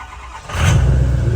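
A 6.0 Powerstroke diesel truck accelerates, its engine rising from a low idle into a loud, close, sustained roar about halfway through.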